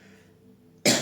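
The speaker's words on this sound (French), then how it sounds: "il faut que je tousse et que je boive" A single sharp cough bursts out near the end after near silence, loud and close, from someone with an irritated throat.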